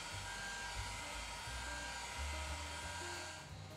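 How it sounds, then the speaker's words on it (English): A heat gun warms the screen of an iPhone 11 during a repair, a steady close-up blowing whir with a faint motor hum and slight pitch shifts, fairly quiet and without talk. "heat the screen while figuring out how to open it up"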